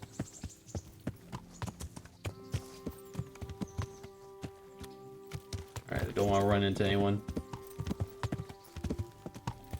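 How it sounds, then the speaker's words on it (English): Horse hooves clip-clop in a steady rhythm while riding in Kingdom Come Deliverance, with a brief louder whinny-like burst midway and background game music; someone talks over it. "I can hold shift and let the horse run"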